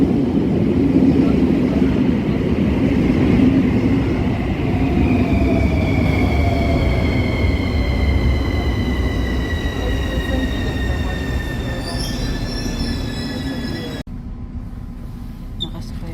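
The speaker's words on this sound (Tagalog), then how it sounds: "Ayan, may bago na namang metro." A metro train arrives with a loud rumble and long, high wheel squeals that rise and slide in pitch as it slows. The noise cuts off sharply near the end.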